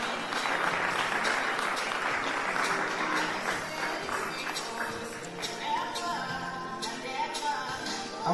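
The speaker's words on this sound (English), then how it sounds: "Let's clap for me as it comes." An audience at a graduation ceremony claps in sustained, fairly dense applause, with some voices and cheers mixed in.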